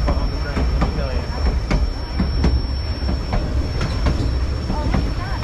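The White Pass train rolls along its rails, with rhythmic clicks from wheels over rail joints, faint squeals and a steady low rumble close by.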